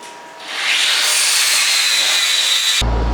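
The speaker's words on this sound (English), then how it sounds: "So it's a floor sweeper." A push floor sweeper in a workshop gathers metal scraps and grinding dust, a loud continuous brushing hiss that rises and holds for a few seconds before cutting off sharply into a low hum.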